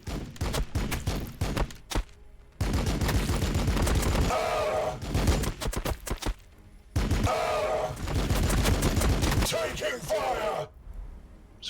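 Bursts of battlefield gunfire in a Warhammer 40,000 Battlesector multiplayer match between Blood Angel armies, loud volleys broken by short gaps, with voices talking over parts of the fire.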